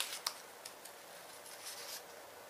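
Scissors snip through paper around an embroidered rose cutout, a few soft close crisp cuts and rustles, faint and unaccompanied by speech.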